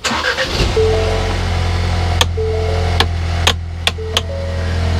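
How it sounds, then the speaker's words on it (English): A Ford Bronco engine cranks and catches, then settles into a loud, steady idle close by, with a few sharp clicks and taps sounding over the running engine. "we are going to go ahead and start the vehicle"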